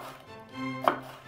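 Kitchen chopping on a board, a short burst of knife strokes with one sharper thud near the end, faint Mozart playing softly in the background, no talking.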